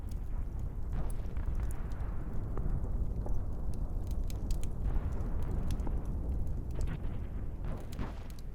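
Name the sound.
bombing explosions, sound effect of US bombing Japan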